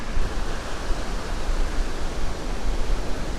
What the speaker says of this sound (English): Lots of noise going on here. Wind, waves, septic treatment plant behind me.